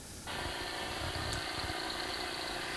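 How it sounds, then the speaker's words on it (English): Ultrasound detector playback of a loose electrical connection: a continuous buzzing, rattling drone that starts after a brief lower hum and holds steady at moderate level, with no voices. "This is the sound of a loose connection."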